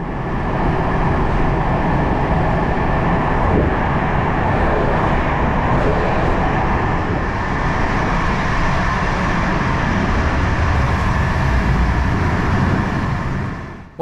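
Classic locomotive-hauled PKP Intercity local train running, a steady, close rumble and roar of wheels and carriage noise with no breaks.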